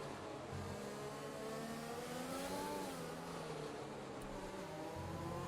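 An F1 car in the racing game F1 2020 revs hard through the first sector of the British GP, its engine note rising and falling in continuous harmonic sweeps, loud and close throughout.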